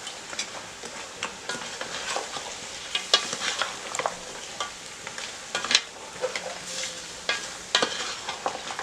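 Pig trotter daube ingredients sautéing in a pot before stock is added, a continuous close sizzle broken by scraping stirs and crackling spatters, with no talking.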